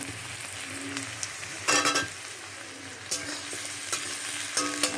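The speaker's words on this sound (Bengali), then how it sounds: "আলুগুলো খুব ভালো করে এর সঙ্গে পেঁয়াজের সঙ্গে ভেজে নেব" Potatoes frying with onions in a pan, a steady quiet sizzle broken by several sharp bursts of scraping and stirring, with no talk.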